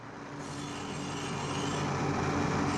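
A steel blade replica is rubbed and polished in a workshop, a continuous close abrasive rasp that swells slightly louder over a few seconds, with no voices.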